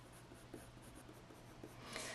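A coloured pencil strokes paper, laying down squirrel fur in a faint, steady scratching with small repeated taps, quiet and close.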